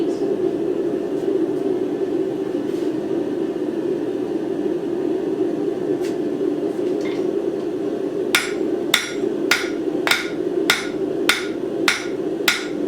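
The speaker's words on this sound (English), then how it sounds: "So the more bounce, the better the anvil." A hammer strikes an anvil while a paperclip is being forged, first a few faint scattered taps, then a run of about nine sharp, ringing blows at a steady pace over a constant low hum.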